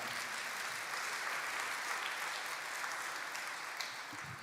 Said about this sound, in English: Give him a big round of applause for coming up and helping us out.